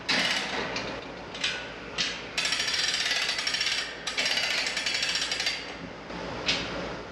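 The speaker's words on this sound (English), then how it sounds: "you can start cranking your calf table up" The hand crank of a hydraulic calf table on a calf chute trailer clatters in loud, close bursts of mechanical ratcheting, with short pauses between strokes and a faint background hum.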